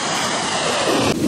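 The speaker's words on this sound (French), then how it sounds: "Là on a les vagues." Ocean waves on the Western Sahara coast, a loud continuous roar of surf churned together with heavy wind buffeting the microphone, with no voices.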